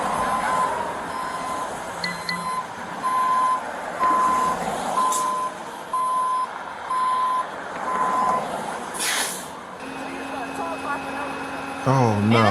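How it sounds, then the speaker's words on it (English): A tow truck backs up with its reversing alarm beeping in a steady, evenly spaced series over low engine rumble and traffic noise, ending with a brief burst of other sounds. "as the tow truck backs up"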